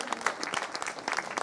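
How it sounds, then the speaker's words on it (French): Audience applause at a vintage fashion event, a short burst of dense hand claps that sounds moderately distant and stays fairly steady throughout. "on peut quand même applaudir ce pur look vintage."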